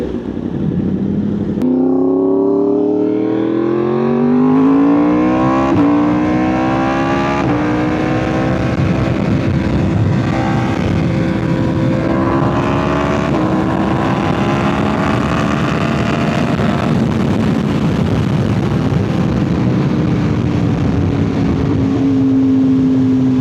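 A 2025 Yamaha R1 sport bike fitted with a new aftermarket exhaust and a flashed ECU revs loudly and continuously nearby, its engine note rising and falling in steady pitch sweeps for more than twenty seconds without any talk.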